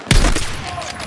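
A single loud, close burst of gunfire in Battlefield 6, a sharp crack followed by a short rattling tail that fades within a second.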